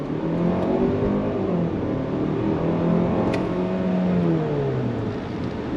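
A 2025 Kia Sportage SX compact SUV engine revving steadily as it accelerates, pitch rising and easing as gears shift, heard from inside the vehicle without talking.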